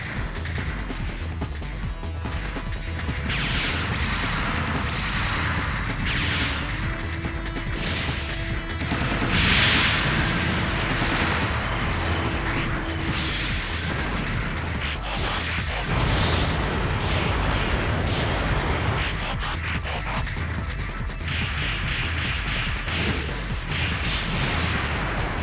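Turret gunfire in the Transformers: Tatakai video game, a dense, loud barrage of bursts, pops and crashes running continuously with explosions mixed in and almost no pause.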